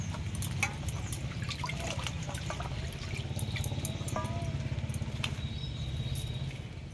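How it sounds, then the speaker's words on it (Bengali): Figs are rinsed in water, with a steady stream of running water over a low rumble and scattered light splashes and drips close by. "দেখুন বন্ধুরা, এখন আমি ডমুরটা ধুয়ে নিচ্ছি।"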